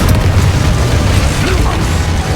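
Spell blasts explode in a Harry Potter video game, a dense run of loud booming bursts over a low rumble, with a voice shouting the spell names over them.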